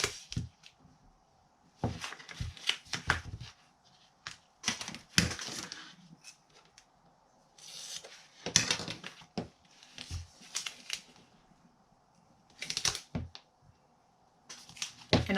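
Adhesive tape is pulled and pressed onto the back of a placemat purse made from dollar-store placemats, giving bursts of crackly tearing and rustling that recur every second or two, close and moderately loud, with no talking.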